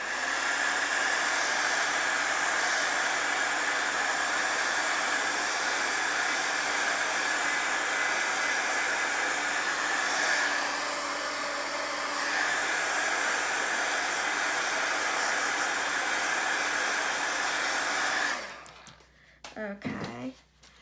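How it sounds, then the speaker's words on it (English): A small heat gun drying craft paint, a loud steady blowing hiss that runs for about eighteen seconds, then cuts off into a few brief handling noises. "let me just go on and dry this with my little heat gun"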